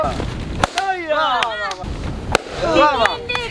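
Balloons being popped by sitting on them in a chair-popping challenge game: several sharp, separate bangs come at uneven intervals, mixed with lively, excited voices talking over them.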